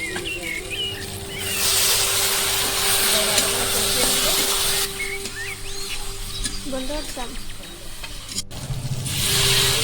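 Spiced jackfruit curry sizzles in a pan, a steady broadband hiss of frying with small crackles and a surge of loud sizzling toward the end.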